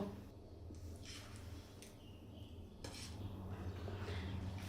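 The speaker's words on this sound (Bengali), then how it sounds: "এবার মশলার মধ্যে মাছগুলো দিয়ে দেবো।" Faint clinks and scrapes of a utensil against a bowl as boroli fish are mixed into an onion-potato masala, a few soft intermittent knocks over quiet background hum.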